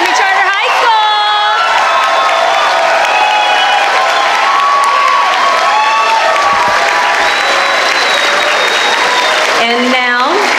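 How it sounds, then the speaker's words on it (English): A large crowd at a 2023 high school graduation ceremony for Somerset College Preparatory Academy applauds and cheers loudly and continuously, with whoops and shouting voices rising over the dense clapping. "Please join me in a special round of applause for the graduates of Somerset College Prep Academy Charter High School."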